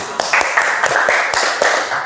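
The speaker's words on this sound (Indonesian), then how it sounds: "Tepuk tangan dulu." Classroom applause in bursts of sharp, sparse hand claps from a small group, close and fairly loud for about two seconds.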